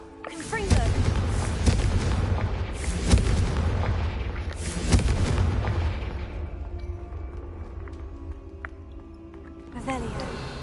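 Repeated Confringo fire spell blasts in Hogwarts Legacy gameplay, a run of booming explosive bursts around one, three and five seconds over a dense rumbling background, with a final burst near the end.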